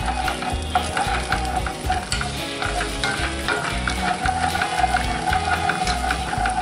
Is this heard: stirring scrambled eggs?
yes